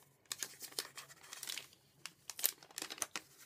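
A paper envelope holding a Memoridex card rustles and crinkles close up. The dry handling noises come in irregular bursts with short pauses between them.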